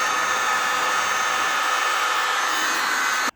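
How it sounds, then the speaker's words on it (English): A heat gun blows steadily on wire harness connections for a replacement HRV damper motor, a constant loud airy roar with no pauses that cuts off abruptly at the end. "And then we'll give her the old heat gun treatment here"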